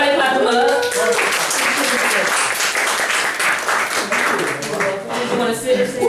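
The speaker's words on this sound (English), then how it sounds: "Everybody clap him up." A crowd at a spoken word open mic applauds loudly and continuously as a performer is called up, with voices talking through the clapping.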